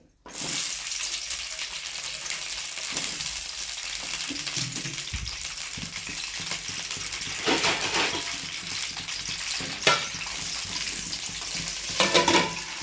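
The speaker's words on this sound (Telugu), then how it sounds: "నూనె పోసుకొని మిరపకాయలు వేపుకోవాలి." Red chillies fry in oil for a pudina roti pachadi, a steady sizzle running throughout with occasional clinks and scraping of a utensil against the pan, a few louder bursts toward the end.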